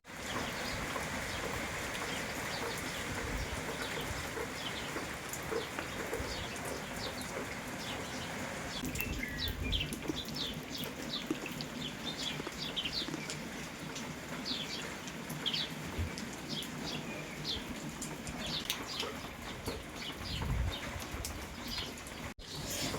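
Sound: heavy rain

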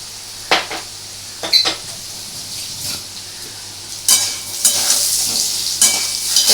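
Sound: stirring potato curry (aloo dum) in a pan

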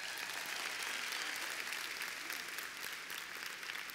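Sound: audience applause at keynote

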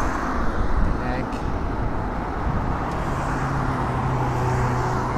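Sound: electric four-wheel-drive trike driving in lowest gear

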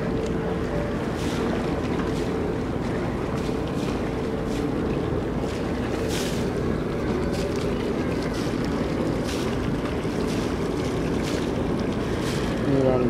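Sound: river flowing

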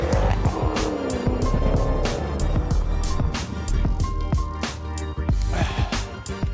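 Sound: cars racing with tire squeal

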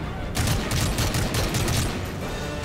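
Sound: gunfire in video game Call of Duty Modern Warfare 3

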